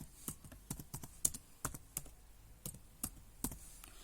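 Typing on a computer keyboard into a Windows search box, a run of sharp individual key clicks in uneven rhythm with short pauses, close and fairly quiet, with no voices.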